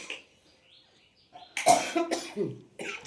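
Several harsh, close coughs from a person with a cold come in quick bursts after a quiet stretch, loud and dry against a near-silent room.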